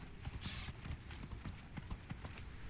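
Hooves of an elfin hallow mount in Dragon Age: Inquisition clop in a quick, even gait, faint but steady rhythmic footfalls under quiet game ambience.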